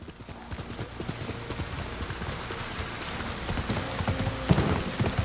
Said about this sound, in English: Nobu's a good horse.